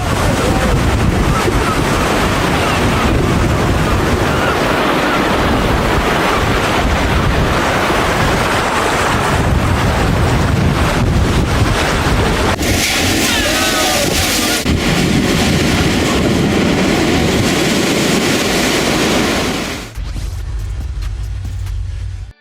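Ocean surf crashing over a tidal beach in St. Ives, England, loud and continuous with heavy wind buffeting the microphone, a sharp shift in the roar midway, and a quieter rushing tail at the end.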